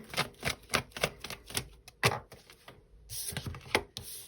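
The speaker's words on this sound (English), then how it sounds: "I'm just going to shuffle again" Tarot cards being shuffled by hand, a rapid run of crisp papery riffles and taps in uneven bursts with a brief pause midway, close and clear with no talking.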